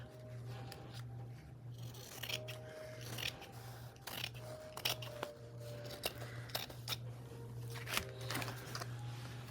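Scissors trim junk journal paper for flip-flop journal pockets, making a series of quiet, close, crisp snips over a low background hum.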